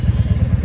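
A motorcycle idles on a road trip stop in Srinagar, Kashmir: a close, steady run of low, even thumping pulses with no voices over it.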